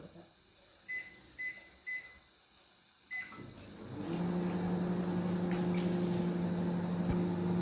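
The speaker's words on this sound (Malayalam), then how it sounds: "ഓവനിലോട്ട് വെച്ചിട്ടുണ്ട്." A microwave oven heating upma: several short electronic beeps from the keypad, then a steady low hum starts and continues as the oven runs, fairly close and moderately loud.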